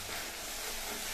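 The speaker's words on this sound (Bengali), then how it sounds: "যে কড়াইতে আলু ভাজা করেছিলাম ওই কড়াইয়ে তেল দিয়ে এখন এই পেঁয়াজ বাটাটা দিয়ে দিচ্ছি" Onion paste dropped into hot oil in a wok (a kadai already used for frying potatoes) gives a steady, close, broadband sizzling hiss for the whole short moment, with no voices.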